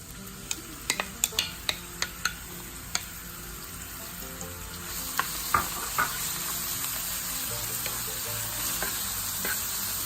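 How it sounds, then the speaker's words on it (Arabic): Onions added to a pan of warm olive oil, a faint crackling sizzle with a series of sharp stirring taps early on, then a steadier hiss, close and without voices. "هلا بننزل البصل"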